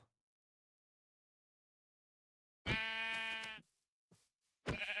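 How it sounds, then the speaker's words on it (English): Sheep bleating: one long, loud, wavering harmonic bleat, then a brief faint call and the start of a second loud bleat, set against silence. "Loving the sheep noise, by the way."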